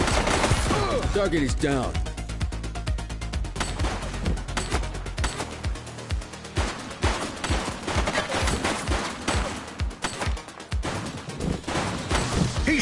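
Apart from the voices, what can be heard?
gunfire from a video game police shootout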